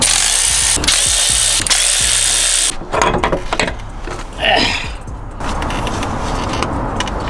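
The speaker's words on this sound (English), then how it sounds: "So let's take the oil pump off and take off that bolt." A power tool working a bolt off an engine's oil pump: a loud continuous whir for a few seconds, then shorter mechanical bursts, rattles and clanks close by.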